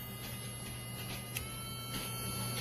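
On its fast setting, a Casfuy two-speed electric dog nail grinder runs with a quiet, steady whirring buzz, faint and unbroken, with no voices.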